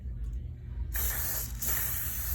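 Cooking spray hisses onto a pan heated to 500 degrees for corn flour crepes, in two bright bursts separated by a brief pause and preceded by faint clicks, close up.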